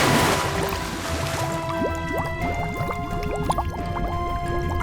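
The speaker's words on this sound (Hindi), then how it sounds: "उसके बाद योर ऑनर, रमाकांत और जॉनसन ने पानी में डाइव किया।" People dive into sea water: a burst of splashing at the start gives way to continuous bubbling and gurgling water movement, steady and moderately loud throughout.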